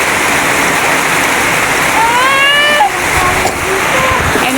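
Heavy rain pours down steadily during a storm, a loud, continuous hiss of water close by, while a voice briefly speaks partway through over the downpour.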